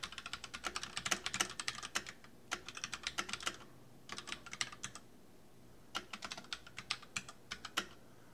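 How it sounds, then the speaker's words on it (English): Typing on a computer keyboard in Notepad, close and crisp key clicks in quick bursts separated by short pauses, with no talk. "I'm just typing some more stuff."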